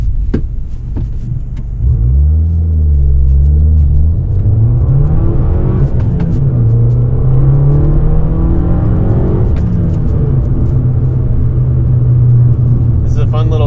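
A Fiat 500 Abarth idles then pulls away, its engine note climbing and sweeping through revs with a deep throbbing rumble, steady and close inside the cabin, with a person talking over it.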